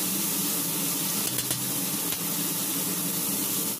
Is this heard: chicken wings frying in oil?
yes